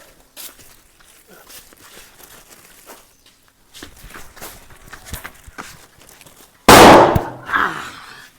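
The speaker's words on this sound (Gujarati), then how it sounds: "એટલે આ તો ઓલા કરતા હારો ફડાક્યો ફૂટ્યો" During Diwali, soft footsteps and shuffling give way to a single sharp, loud firecracker burst that echoes briefly before fading.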